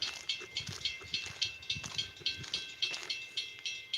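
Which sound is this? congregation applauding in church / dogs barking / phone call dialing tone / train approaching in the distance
train approaching in the distance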